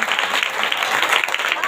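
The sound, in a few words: congregation applause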